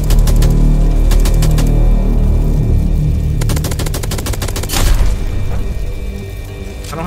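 Rapid bursts of video game gunfire, from a boss fight in a Plankton robot Krabs game, with clusters of loud cracking shots and a denser volley near the middle, over a constant rumbling game soundtrack.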